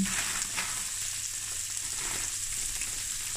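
Sliced jalapenos frying in nutty browned butter in a pan, a steady close sizzle with faint stirring and no voices.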